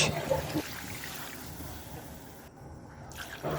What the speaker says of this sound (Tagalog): naglagay na ako ng 2 basong tubig